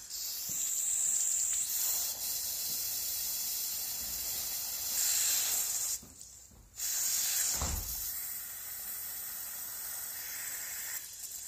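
Water forced through a Chevy fuel EVAP canister makes a steady pressurised hiss and spray that cuts out briefly about two-thirds through, then resumes at an even, moderate level.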